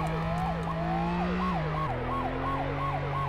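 A police siren from the emergency-services game Flashing Lights wails, then switches to a fast yelping pattern, loud and continuous over a low engine drone.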